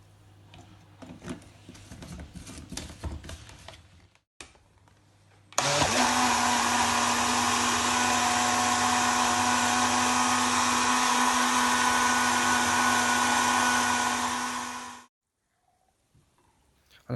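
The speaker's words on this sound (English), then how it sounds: "So then you put it back on the grinder and it will just mash it" A countertop grinder blends apple, oats and dates into a smoothie, a loud steady motor whir that starts abruptly, runs about ten seconds at even pitch and cuts off, after some quieter clattering and handling noise before it.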